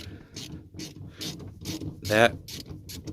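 Plastic seat belt trim clip being pried loose inside a 2000 Honda Civic, a run of close, quick ratcheting clicks and snaps, one louder crackling release near the end, with faint handling noise throughout.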